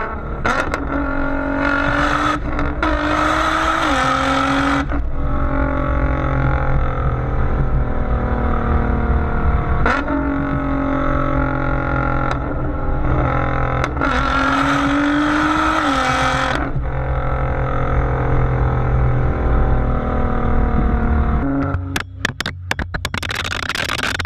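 A modded 800 hp Nissan GT-R Black Edition roars loudly through its exhaust, revving up in repeated surges with rising pitch, gear changes between pulls, then cutting off near the end.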